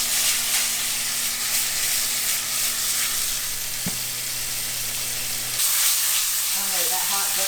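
Mahi mahi fillet frying in hot butter in a pan, a steady bright sizzle with a brief sharp crackle midway and a louder surge of sizzling near the end.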